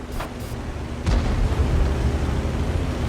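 A 152.5 mm cannon on the Caliban tank fires in a video game, giving one heavy, booming shot about a second in, followed by a rolling low rumble over steady battle noise.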